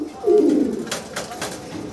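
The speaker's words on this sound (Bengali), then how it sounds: "কবুতরটা, খুবই অ্যাক্টিভ" A pigeon gives a single soft, low coo close by, followed by a couple of faint muffled rustles in a quiet setting.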